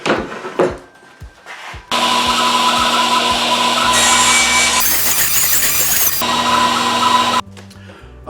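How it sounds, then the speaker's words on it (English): A power saw rips through a wooden board being trimmed to height for a box, the loud continuous cut running for several seconds after a brief startup and ending with a quieter spin-down. "I'll cut this down to 7 1/2 inches, which is the final height of the box."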